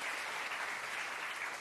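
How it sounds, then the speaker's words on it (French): A television studio audience gives a short burst of steady, even applause, a dense wash of clapping that stays level throughout. "j'aimerais qu'on l'applaudisse pour ce qu'elle est, vraiment"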